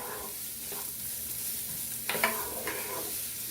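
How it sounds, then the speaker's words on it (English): Onions sauté in a pan with a steady, soft sizzle. A utensil stirs them in a few sharper scraping strokes near the middle and end. No one speaks. "we're going to saute this for a couple minutes"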